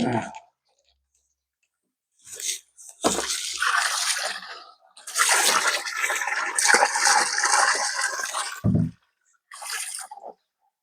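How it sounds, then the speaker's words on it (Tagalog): Water gushes from a tap in short bursts, a broad splashing rush that starts and stops several times, close and fairly loud with silent pauses between. "biglang bubulwak yung tubig"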